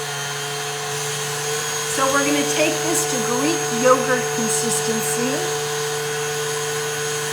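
An electric stand mixer whips frosting as sugar and instant clear gel are added, a steady motor drone with a high whine running throughout while a person talks over it.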